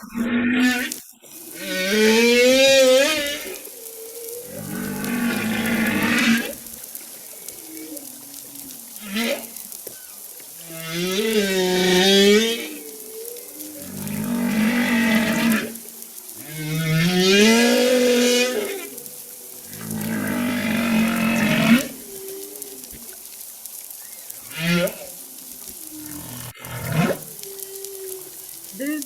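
Long, moaning humpback whale calls rise and fall in repeated phrases, separated by brief pauses, with deep groans and higher wavering cries.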